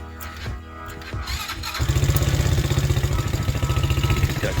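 A modified Honda Crossfire 150R motorcycle cranks briefly, then catches and settles into a loud, close, rapid, pulsing idle with a clattery edge.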